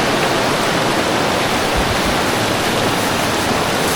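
Strong flowing water of a stream roars loudly and without a break, a dense close-up rush with no speech over it.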